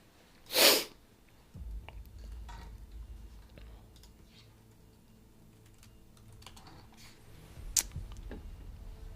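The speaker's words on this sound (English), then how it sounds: "Good sneeze." A single sharp sneeze bursts out near the start, followed by quiet keyboard typing and soft clicks.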